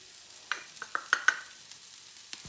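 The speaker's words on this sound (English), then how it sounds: "What we're going to do now is we're going to add the mushrooms." Mushrooms go into a pan of softened onions, celery and garlic for spaghetti Bolognese: a series of sharp clattering knocks and scrapes as they land and are stirred over a soft frying sizzle.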